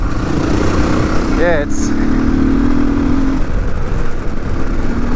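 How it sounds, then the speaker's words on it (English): Dirt motorcycle, a CRF300 or KTM500, lugging at low revs in fourth gear with the throttle then rolled on, a steady close engine drone with a brief rising rev, while someone talks over it. "I'm just lugging it around in fourth gear, just idling and then rolling on the power."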